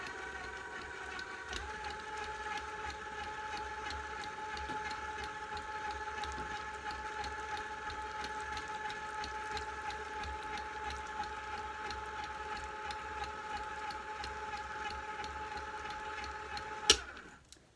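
Electric hand mixer whirring through vanilla icing made with icing sugar, a steady mechanical drone with a faint rattling texture that runs for the whole stretch before a sharp knock and cutoff near the end.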